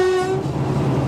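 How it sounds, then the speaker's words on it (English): Horn of class 37 diesel locomotive 37250 on the Wensleydale Railway, a loud, close tonal blast that cuts off partway, followed by the engine's low throbbing rumble. "once again he shows me how to use the horn"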